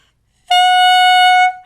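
A single sustained reedy tone from a clarinet mouthpiece, bright and buzzy, held steadily for about a second, close and loud.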